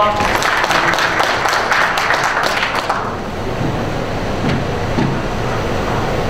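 Loud, dense applause from the audience at a merchants' association president inauguration ceremony, a steady wash of many hands for about three seconds before dying down into room noise.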